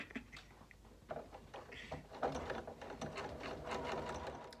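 A home sewing machine stitches a blanket stitch and decorative stitches around the edge of a simple holiday quilt, its rapid mechanical whirring running in short bursts with small clicks and pauses, close and fairly quiet.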